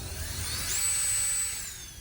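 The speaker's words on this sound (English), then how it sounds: "And through the other end, I will just drill and bolt this in." A power drill bores into a fitting to bolt it in, a close, steady high-pitched whine whose motor speed rises and holds before easing off, heard alone without talk.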